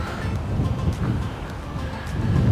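Steady wind buffeting the microphone on a sunny April day along the wild coast at Mellieħa, Malta, a continuous low rumble with no pause, constant throughout with slight swells.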